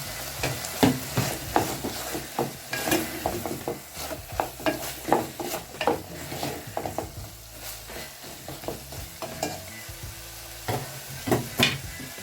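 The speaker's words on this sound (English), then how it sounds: "I'll go in with my capsicum." Chopped capsicum goes into a pan of beef being cooked in a home kitchen, and a spoon scrapes and stirs in steady strokes over a continuous close sizzle of frying, with no voices.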